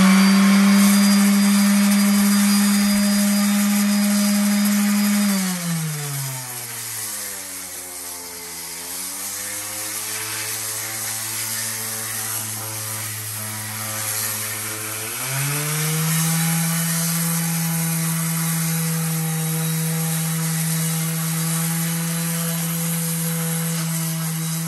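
A loud, steady power sander with a sanding pad whirs continuously on the edge of a fountain, its pitch dropping as it bears down under load for several seconds, then rising again.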